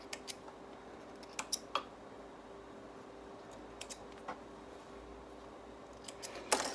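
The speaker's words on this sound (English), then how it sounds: "Snip those threads" Scissors snip sewing threads on a jersey garment, giving a few faint, sharp clicks spread through a quiet room with soft handling noises.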